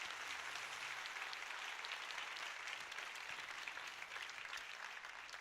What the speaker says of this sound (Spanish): Denme un aplauso bien fuerte al Rey